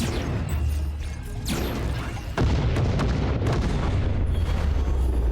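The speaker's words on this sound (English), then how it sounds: "The explosions are good." Booming explosions in the video game Breachway, a heavy blast midway followed by crackling, rumbling debris that sustains loudly to the end.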